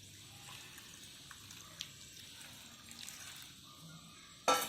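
Soft, steady trickle of hot water being poured onto dried mango runs throughout, quiet and continuous, ending with a sudden louder splash or clatter at the very end.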